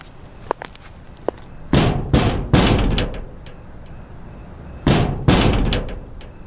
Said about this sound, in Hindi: आयशा ने 2 बार दरवाजा बजाया